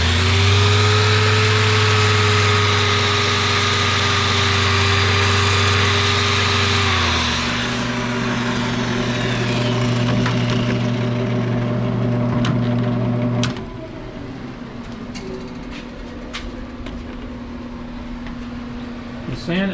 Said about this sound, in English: Starting the sander.